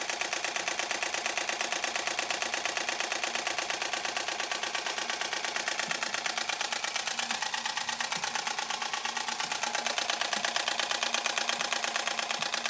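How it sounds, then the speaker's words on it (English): Panasonic G7 mirrorless camera firing its shutter in high-speed burst mode, a rapid, even machine-gun rattle of clicks running continuously for the whole stretch, close and steady. "if we want to go to fast shutter, let's go here"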